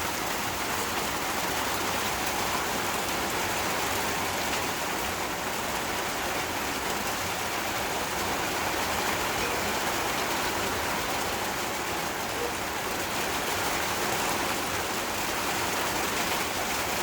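Heavy rain falls steadily and loudly in an autumn countryside setting near cattle, a dense, unbroken hiss with no talk over it.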